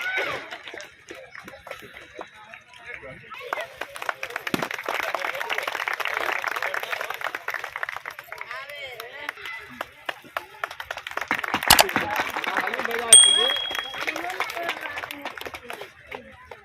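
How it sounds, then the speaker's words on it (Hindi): Applause from a crowd welcoming a newly elected deputy mayor at a municipal ward event in Begusarai, rising and falling over several seconds with scattered claps, mixed with people talking over it. "इनका जोरदार हम लोग तालियों से स्वागत करें"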